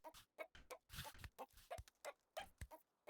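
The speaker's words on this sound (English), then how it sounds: "I hear chickens." Chickens clucking in the Baby Steps video game, a run of short, irregular clucks and squawks close by, loud against a quiet background.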